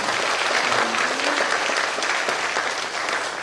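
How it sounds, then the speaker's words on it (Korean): Church congregation applauding together during a worship service, a steady dense wash of clapping that fills the room and holds loud and even throughout. "우리 한번 박수로 격려했으면 좋겠습니다."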